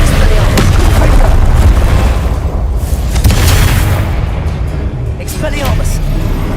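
Fire-spell explosions in a wizard-school video game come as dense, continuous booming blasts, loud and close, rolling over each other with a voice shouting spell names throughout.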